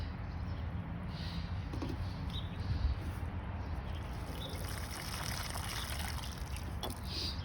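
Water is poured onto bone-dry soil around a transplanted tomato plant, a soft, steady trickle and gurgle under faint background hiss, with occasional small splashes.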